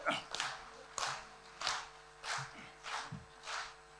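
Audience applause for a Hindi poem recited on stage at a poetry gathering in Thailand, coming in about seven short separated bursts of clapping with a voice faintly underneath.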